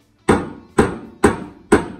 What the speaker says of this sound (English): I can hammer that, and then it'll mark center